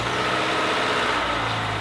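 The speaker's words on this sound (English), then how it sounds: "And we'll start her up." A car whose engine was ruined by unchanged oil runs after starting, a steady, loud, close idle with a low rumble and broadband mechanical noise that holds constant throughout.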